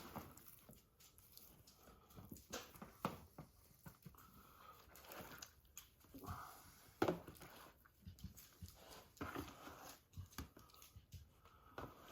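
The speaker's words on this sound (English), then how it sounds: "I don't know if you can hear Lola sniffing." A dog named Lola sniffs nearby in a quiet room, soft intermittent snuffling bursts with faint rustles and an occasional louder snort, no talking.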